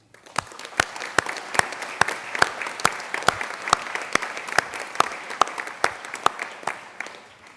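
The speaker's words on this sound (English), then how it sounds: "Please join me in recognizing their accomplishments with a round of applause." An audience at a commencement ceremony applauding the graduating candidates, with steady clapping from a large crowd and sharp individual claps standing out near the microphone, lasting several seconds before tapering off.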